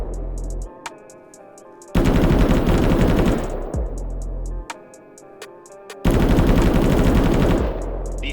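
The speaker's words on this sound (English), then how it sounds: "This is a 10 to 13 round burst with a 2 to 3 second pause, sending 200 rounds per minute downrange" A machine gun in the military shooter Arma 3 fires two loud, rapid bursts of roughly ten to thirteen rounds each, separated by a pause of about two seconds, with distant shots and echoes in between.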